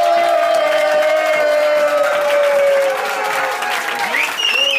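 Loud, continuous applause and cheering from a poetry slam audience in a German club, dense and sustained throughout, with shouts and whoops rising over the clapping.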